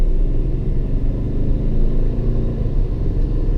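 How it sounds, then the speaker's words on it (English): A deep, steady engine exhaust rumble from a 2020 Toyota Tundra pickup truck idles close by, low and throaty, with no voices. "the exhaust, listen."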